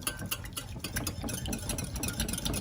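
Egg, milk and oil whisked together in a mixing bowl for coffee cake batter, giving a quick, steady run of close scraping and tapping strokes with no talking.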